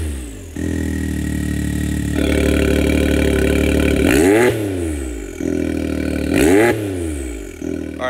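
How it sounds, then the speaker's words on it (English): A Can-Am X3 Max side-by-side engine revs through its muffler with the exhaust valve closed, a steady close idle rising into two sharp throttle blips with falling pitch as each rev drops back. "Now, with the valve closed, it's gonna go through the muffler and out this side."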